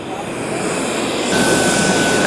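A Boomerang Lancer RC jet with half flaps roars steadily during takeoff on a grass field, its turbine whine loud and close and swelling slightly partway through.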